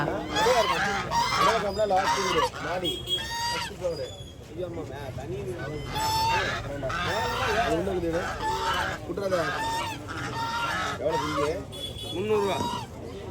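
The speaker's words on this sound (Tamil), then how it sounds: "இந்த 2 வாத்துங்களை பார்த்தாவே ரொம்ப அழகாக இருக்குதுங்க" Ducks for sale at a village market, honking and quacking in a busy, irregular chorus close by, with someone talking throughout over the birds.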